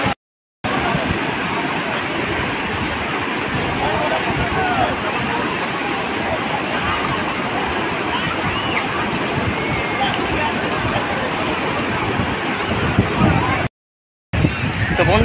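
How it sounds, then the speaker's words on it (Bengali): Sea waves roll onto the shore at Digha beach as the tide begins to come in, a loud, continuous wash of surf with a brief dropout near the start and end. "সমুদ্রের ঢেউ কিন্তু অলরেডি পাড়া শুরু হয়ে গেছে"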